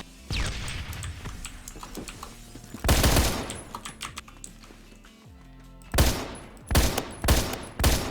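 GIM1 gunfire in the Roblox game Phantom Forces, coming as short loud bursts of rapid shots separated by quieter stretches of lighter clicks and clatter.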